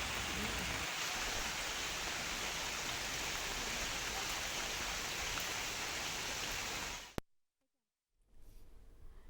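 Heavy monsoon rain pours steadily in Uttara Kannada, a dense, loud, even hiss of downpour that holds for about seven seconds before cutting off abruptly to near silence.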